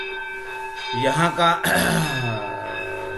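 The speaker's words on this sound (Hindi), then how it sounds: "वो घंटी बजनी शुरू हो गई है" A bell rings at a religious teaching class to mark the end of class time. It gives sustained bright ringing tones with long overtones and keeps sounding under a voice.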